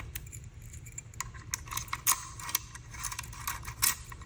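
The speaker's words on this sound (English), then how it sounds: "Here are the physical keys." Physical keys supplied with a Philips fingerprint smart lock jangle close by, a run of bright metallic clinks and rattles of varying loudness over a low steady hum, with no one speaking.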